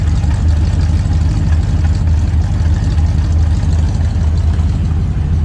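A 1956 Ford F-100 pickup engine idles steadily through its newly fitted exhaust, a continuous low rumble that stays even and moderately loud for the whole stretch, with no speech over it.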